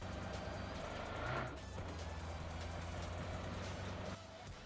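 A vehicle drives through a PUBG Mobile match, its engine humming steadily at moderate volume with a brief swell partway through, continuous motor noise and no talking.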